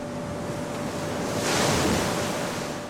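Ocean waves and wind along the Greenland coast, a steady roar of surf with a swelling wave wash building midway, close and full, with no voices.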